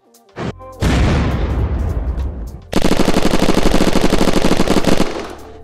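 Gunfire in the video game Unturned: a couple of sharp single shots, then a sustained rapid automatic burst, loud and close, with no talking.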